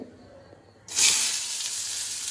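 Finely chopped capsicum and onion drop into hot oil with a sudden loud sizzle that settles into a steady frying hiss; a quiet background before the vegetables go in.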